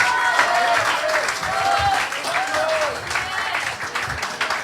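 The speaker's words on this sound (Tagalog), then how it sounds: "Mahina yung palakpak nyo para kay Jesus, mga kapatid." A church congregation claps steadily during a sermon, a continuous even patter of applause lasting a few seconds, with a voice faintly audible underneath.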